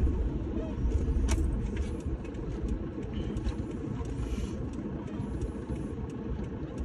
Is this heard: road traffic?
yes